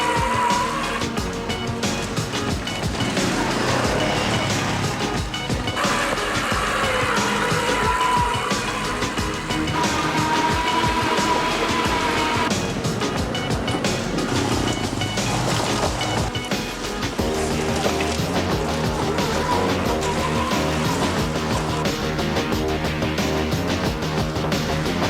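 Crusher all-terrain vehicle driving by, a continuous loud engine roar with revving and surging over about 25 seconds, rising as it approaches, with tire and terrain noise mixed in.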